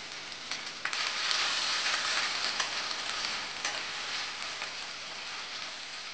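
Chopped onion and ginger paste fry in hot oil in a pan, giving a steady, bright sizzle with a few brief crackles and stirring scrapes, close and continuous with no talk.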